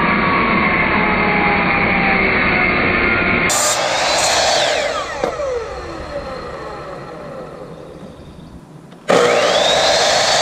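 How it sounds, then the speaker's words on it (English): Power saw cutting a 4-inch piece of 2x4 lumber in a backyard, a loud steady whine that drops in pitch as the blade bites through the wood, then stops abruptly and restarts near the end. "we're going to cut a 4-inch piece of 2x4"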